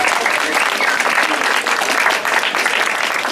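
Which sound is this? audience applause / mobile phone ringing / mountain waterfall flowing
audience applause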